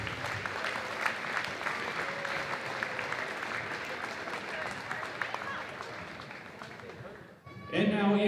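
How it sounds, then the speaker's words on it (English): Sustained crowd applause in a gym for the officials of a girls varsity basketball game, a broad steady roar of many hands that fades near the end under an announcer's voice. "please stand and show your appreciation by giving a big round of applause for these"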